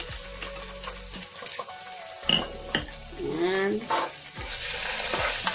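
Garlic puree sizzles and is stirred in a hot pan for fried rice, a continuous close fry with scraping and clinks of a spoon against the pan, while someone speaks briefly.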